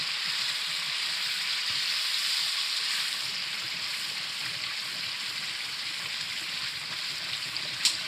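Saag greens frying in a pan while being stirred, a steady close sizzle running throughout with faint wet scraping, and a brief clack near the end.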